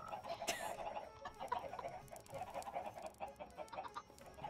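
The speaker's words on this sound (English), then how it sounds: "Swarm of the chickens!" Minecraft chickens clucking in a dense, overlapping chorus, a flock of fowl calls repeating in quick irregular bursts close by with no voices.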